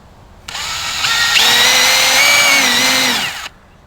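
A power drill whines steadily as it bores through the fiberglass fender of a SeaDoo personal watercraft, rising in pitch partway through and running alone for about three seconds before stopping abruptly.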